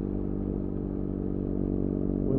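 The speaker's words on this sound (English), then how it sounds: "want to hear that exhaust note" Steady low motorcycle exhaust drone during a midnight ride, a continuous rumbling engine note with little variation, close and fairly loud with no talking.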